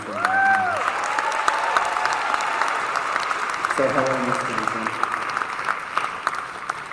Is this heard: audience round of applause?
yes